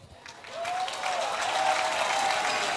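A church congregation breaks into applause to welcome the pastor, a dense wash of clapping that swells quickly and stays steady, with a faint whistle-like tone running through it.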